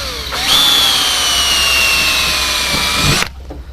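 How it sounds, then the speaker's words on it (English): A power drill bores a hole through a jig for an aircraft cowling, a short, loud, close whine that starts abruptly, holds steady for about three seconds and then cuts off. "Drill the first hole"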